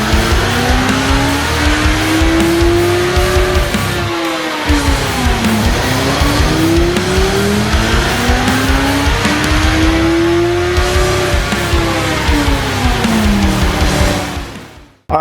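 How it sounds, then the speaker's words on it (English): A 2008 Kawasaki ZX-14 motorcycle, high mileage, revs hard on a dyno, its loud engine note climbing and falling in repeated sweeps before cutting off abruptly at the end. "We're gonna set the bike up, we're gonna get it ready to be dynoed"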